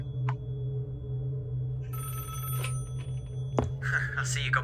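A telephone ringing in the horror video game Five Nights at Wario's 2, a tonal ring entering midway over a steady low hum, followed by clicks, moderately loud and close.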